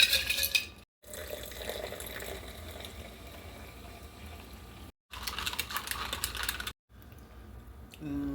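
A homemade lemon drink stirred in a container, faint clinking and sloshing strokes in several bursts separated by short silent gaps, quiet and close with no talk.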